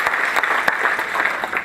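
Stand-up comedy audience clapping in a brief, dense burst of applause.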